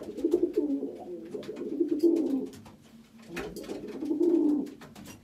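Pigeons coo in soft, throaty bursts nearby in a loft, two rounds of low rolling calls separated by a short pause, with faint background noise.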